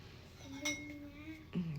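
A spoon scrapes fruit flesh into a bowl of yogurt, making a few faint metallic clinks and scrapes close by in a quiet kitchen.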